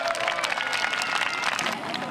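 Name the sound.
audience applause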